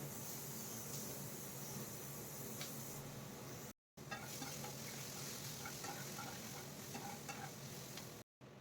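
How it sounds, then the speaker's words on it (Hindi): Onions frying in oil with turmeric, bay leaf and panch phoron in a home kitchen, giving a steady, continuous sizzle with stirring scrapes that cuts out briefly twice. "अब थोड़ी सी हल्दी डाल के मैं प्याज को फ्राई करूँगी।"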